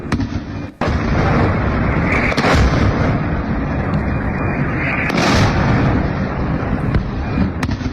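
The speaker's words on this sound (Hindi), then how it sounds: "ये ईरानी मिसाइल आकर गिरी है और यह धमाका इजराइल में हुआ।" An Iranian missile strikes in Israel, a loud blast after a brief lull followed by a sustained roaring, rumbling wash of noise with further booms and crackle, at close range.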